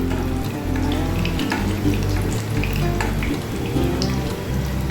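Capsicum corn malpua batter frying in oil in a pan, a steady loud sizzle with low rumbling tones running through it and no voices.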